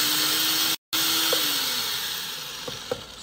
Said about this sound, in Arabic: صحيح ماطور مزعج عالي، أقل من صوت السي تي بكثير طبعا